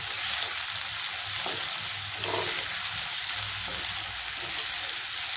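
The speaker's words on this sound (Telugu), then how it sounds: "అల్లం కూడా బాగా వేగాలి." Ginger garlic paste frying in hot oil for a curry, a steady close sizzle throughout with occasional soft stirring scrapes in the pan.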